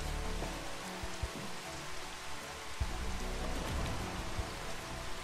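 Final Fantasy XV (Platinum Demo) rain pours as an even, dense hiss, with a few sharp drop-like clicks and low rumbles breaking through.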